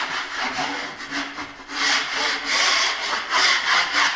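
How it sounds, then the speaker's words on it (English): Scraping dried drywall joint compound off a wall above a door, a rough rasping scrape repeated in uneven strokes over about four seconds, close and fairly loud with no talk. "So I'm just gonna scrape it a little bit just to get the high spots off."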